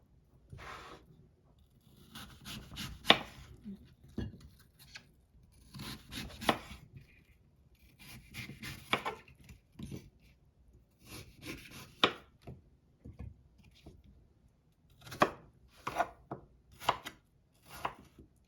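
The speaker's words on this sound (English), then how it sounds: "now I peel the apples and we're gonna cut apples" Apples being cut into little cubes with a knife on a board, heard as bursts of quick crisp chopping strokes separated by short pauses, close and fairly quiet, with no voices.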